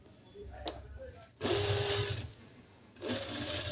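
A sewing machine runs in two bursts while stitching a suit's sweetheart neckline, the close whirring motor starting and stopping with a quiet pause between.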